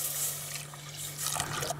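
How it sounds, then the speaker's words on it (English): Milk poured into a pan of melted butter and flour to make the white sauce for a chicken lasagna, a faint, soft trickle lasting under two seconds with a low steady hum behind it. "So I'm going to add my milk now."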